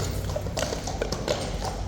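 Hooves of a large ceremonial King's Guard horse clop on the ground in a steady, fairly close rhythm of distinct strikes over outdoor background noise.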